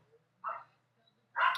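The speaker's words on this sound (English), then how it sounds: "the dogs are barking" Dogs bark at home during a makeup tutorial, two separate short barks a second apart, fairly faint and distant against a quiet room.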